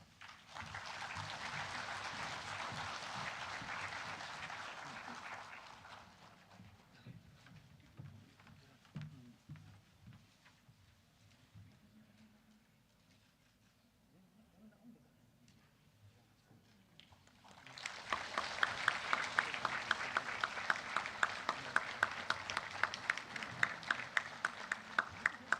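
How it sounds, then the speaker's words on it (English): Audience at the Meghalaya launch of ICU wards breaks into applause twice, a first round fading into a quiet pause, then a louder, sharper burst of clapping that continues to the end. "I would like to request the House to please join in with a round of applause"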